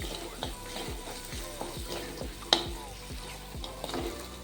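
A kachori filling of fresh pigeon peas with turmeric and garam masala is stirred in a pan, with rhythmic low scraping strokes about three per second over a light sizzle and one sharp clink midway.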